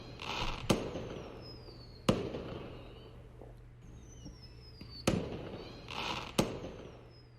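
Fireworks during a festival scene in the visual novel Angels with Scaly Wings: several sharp booming bursts, with whistling rockets rising between them, heard at a moderate distance over a low background hum.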